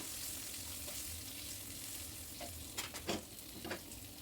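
Hilsa fish tails fry in a pan with a faint, steady sizzle, broken near the end by a few soft scraping stirs as the pieces are turned.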